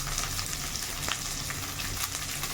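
Onions hit hot oil and sizzle steadily as they fry for palak dalma, a spinach and lentil dish. The hiss stays continuous and close, with faint stirring and no voices.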